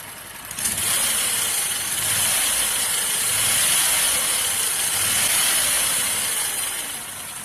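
A roadster's engine, mounted with a Pinto bell housing, fires up and keeps running, a steady hissing, whirring roar that swells and eases over several seconds.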